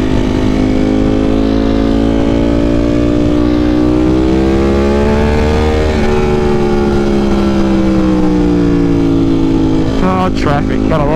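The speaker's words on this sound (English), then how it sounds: "Traffic, gotta love it, right?" Road traffic heard from a motorcycle: a loud, constant engine drone with wind noise rises and falls in pitch as vehicles pass close by.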